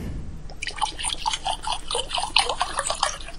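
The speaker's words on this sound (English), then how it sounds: "it sounds like water" Trickling, dripping water in the video game Mad Father, a bubbly run of close splashy drips and gurgles repeating for a few seconds with no voices over it.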